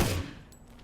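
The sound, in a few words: tactical rifle firing in burst mode in a video game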